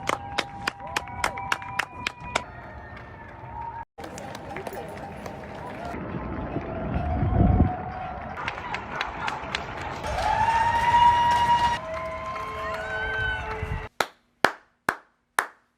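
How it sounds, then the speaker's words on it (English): New Yorkers clap and cheer at 7 p.m. for medical workers, sharp rhythmic claps near the start and end with a denser swell of outdoor noise and voices in between. "I have never been more moved by applause that wasn't for me"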